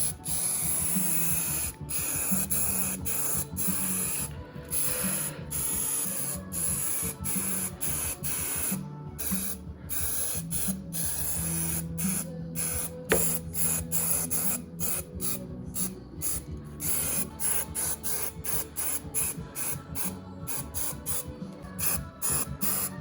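Spray can laying primer onto the frame of a 1990 Kawasaki ZXR750, a steady hiss in many short bursts with brief gaps between them, close and moderately loud throughout.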